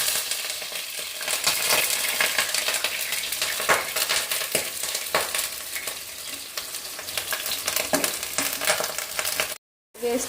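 Onions frying in oil in a pan for a spicy chicken dish, a continuous close sizzle broken by scraping and clinking stirs of a spoon against the metal.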